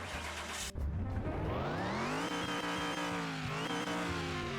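A big truck engine in the video game Car Mechanic Simulator 2021 idles, then revs up in rising sweeps, dropping briefly before climbing again, loud and close with a steady mechanical drone.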